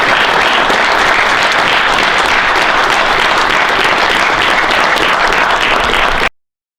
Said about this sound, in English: Clap it up for these seniors,